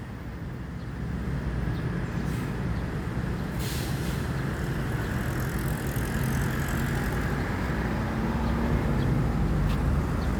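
A bus pulls into a busy bus terminal with a steady, heavy low rumble, close and constant throughout, with faint clatter and hiss on top.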